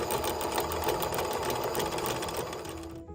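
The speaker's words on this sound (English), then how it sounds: "once you've drilled a hole through the top of the nickel" Small drill boring a hole through the top of a pure nickel coin: a steady, high, whirring buzz runs for about three seconds and then cuts off.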